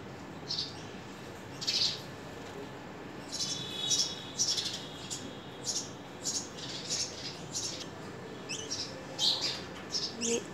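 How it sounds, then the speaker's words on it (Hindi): A small bird bringing food to its chicks chirps in repeated short, bright bursts at an unhurried pace, moderately close, over faint insect hum. "ये देखिए चिड़िया रानी अपने बच्चों के लिए"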